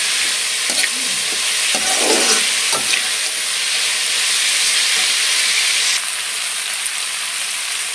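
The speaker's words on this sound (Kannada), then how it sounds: "ಒಂದು ಅರ್ಧ ಫ್ರೈ ಆದರೆ ಸಾಕು ಈರುಳ್ಳಿ" Onions frying in a pan, a loud steady close sizzle with a few stirring scrapes early on, continuing alone without talk.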